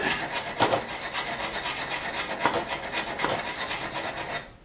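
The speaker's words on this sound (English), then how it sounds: "Grab the wire brush so we can clean these off a little bit." A wire brush scrubs rust and grime off wheel nuts on a rolled 2002 Jeep Liberty, a fast rhythmic rasping back and forth with a few heavier strokes, close up, stopping abruptly at the end.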